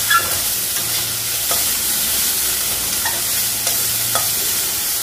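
Potatoes frying in a pan on a gas stove in a home kitchen, a steady close sizzle with occasional soft stirring scrapes and clicks throughout, no voices.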